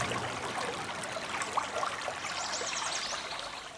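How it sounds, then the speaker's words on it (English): Babbling brook flowing through a wooded area, a steady broadband rush and trickle of water with small splashy bubbles, continuous and moderately near, no voices. "We have a babbling brook going through a nice wooded area"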